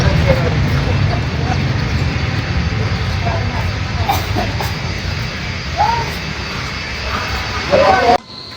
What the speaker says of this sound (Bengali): বিমান বাংলাদেশ এয়ারলাইন্সের বোয়িং 737 মডেলের বিমানটি রানওয়েতে ওড়ার জন্য প্রস্তুত